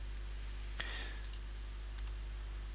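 Mouse clicks in Revit-style CAD software, picking start and end points on wall surfaces: a few short, crisp clicks spread across a couple of seconds over a steady electrical hum.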